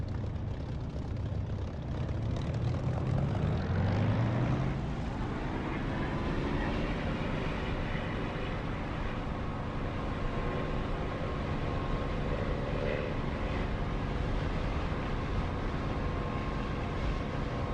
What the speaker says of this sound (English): Brake off, stick back full right, throttle up.